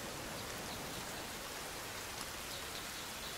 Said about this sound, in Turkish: Yağmur başladı.